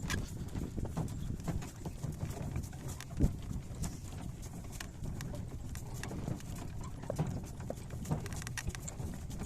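A harnessed pair of horses in Ternopil region, Ukraine, clip-clops in a steady, continuous rhythm at moderate loudness, with no talking.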